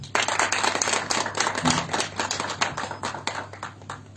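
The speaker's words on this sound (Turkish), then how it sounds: "Bir alkış." Audience applause at a Turkish televised event honoring a Sinop Erfelek mayor, a dense burst of clapping hands filling the whole stretch, steady and fairly loud with no talk over it.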